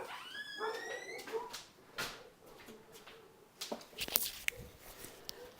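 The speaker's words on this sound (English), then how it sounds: "It's the first time the dog's barked in 6 months." Indoors, a dog gives a high whining yelp and then a few scattered barks and yips of moderate loudness, mixed with thumps and knocks like a door or drawer moving.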